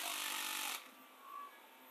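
A used Japanese cordless battery drill runs in drill mode with a loud, close, high whirring buzz for under a second, then cuts off, leaving a faint low hum.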